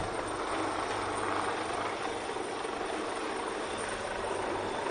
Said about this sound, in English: Let's hope the Westpac helicopter doesn't land on top of us.